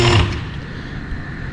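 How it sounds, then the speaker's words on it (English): Car tires creak and grind as a vehicle rises on an automotive shop lift, a brief mechanical groan over steady motor hum, close and fairly loud. "That noise you just heard is normal, that's the tires."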